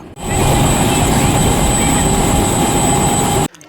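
A helicopter carrying a groom to his wedding in Maheshpur, Jhenaidah, makes a loud, continuous rotor and engine roar that holds steady throughout before cutting off sharply at the end.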